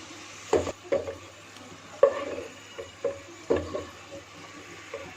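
Arbi and chicken frying on high flame, a soft sizzle under a series of irregular scraping and stirring knocks from a spoon in the pot, close and moderately quiet, about a dozen strokes.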